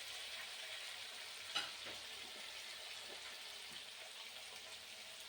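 Green chillies frying in a pan for a cauliflower kofta curry give a steady close sizzle, with one sharp clink of utensil or pan near the start and no voices.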